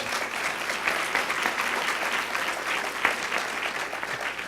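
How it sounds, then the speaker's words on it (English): An audience at a pay equity pledge signing press conference gives a sustained round of applause, dense even clapping that holds steady throughout without speech. "So please give them a round of applause"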